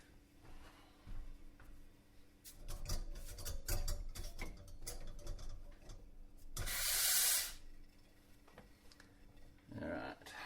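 The nozzle of a Bellman stove-top espresso steamer is being cleaned, with soft rubbing and clinking, then a loud rush of steam for about a second, followed by a shorter burst near the end.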